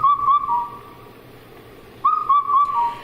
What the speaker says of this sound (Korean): 검은둥 뻐꾸기 소리는 이제 돈 주고도 못 사는 귀한 소리가 됐습니다.